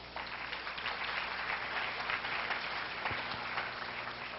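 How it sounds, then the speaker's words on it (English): Audience applause for the speaker at a CEO forum, a steady, moderately loud roll of many hands clapping that continues throughout. "Please give our speaker a round of applause."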